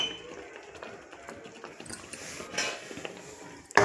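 Spices being stirred into tomato puree in a pan for tomato egg curry, with soft scraping and clinking of the spoon against the pan, close and fairly quiet, ending in a louder knock.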